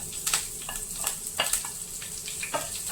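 Fennel seeds, a piece of cinnamon, cardamom, cloves and curry leaves sizzle in hot oil with steady crackling hiss, punctuated by a few close scraping stirs of a spoon in the pan.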